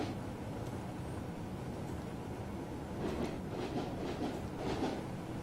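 In Train Simulator 2015, a Metronom ME146 train runs on the Hamburg–Hanover line with a low, steady rumble of wheels and motor and faint rhythmic rail clicks toward the end, fairly quiet, with no voices.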